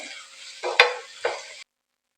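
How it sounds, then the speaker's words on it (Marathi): Onion fries in oil with salt, giving a brief sizzling hiss with two or three sharper stirring scrapes before the sound cuts to silence. "आपला आता इथे कांदा छानपैकी भाजून झालेला आहे तेलामध्ये"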